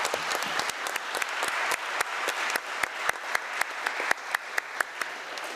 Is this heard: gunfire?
no